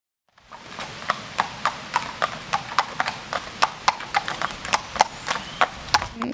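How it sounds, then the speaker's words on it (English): Horse hooves clip-clop steadily along a quiet countryside lane, a close, regular beat of sharp hoof strikes on the road surface with no talking over it. "You've seen the horse, haven't you?"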